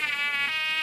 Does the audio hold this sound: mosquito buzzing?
yes